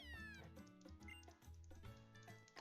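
Cat Pokémon cry from a Pokémon game, a pair of synthesized meowing, yowling calls with shifting pitch, loud and alone with no talk.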